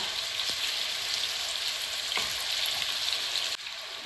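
Chicken pieces for chilli chicken sizzle steadily in a hot pan, a constant hissing fry with a few faint scrapes and clicks.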